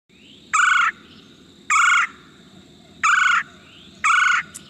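A red-bellied woodpecker gives four shrill, rolling chirr calls, evenly spaced and fairly close, each about a third of a second long, over a faint outdoor background hum.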